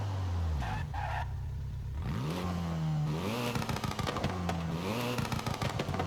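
A new Hyundai hot hatch idles and revs while standing still, its exhaust crackling with rapid small pops as engine pitch rises and falls, close and fairly loud.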